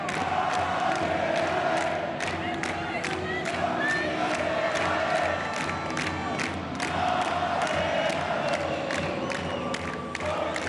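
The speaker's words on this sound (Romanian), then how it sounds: "Aplauze de ambele părți" A big crowd at a Fed Cup women's tennis semifinal fills the arena with continuous cheering, shouts and scattered clapping, loud and sustained for the whole stretch.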